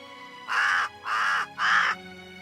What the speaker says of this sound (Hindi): कौवे की आवाज थी।